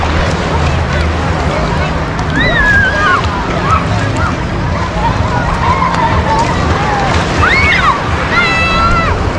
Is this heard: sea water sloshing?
yes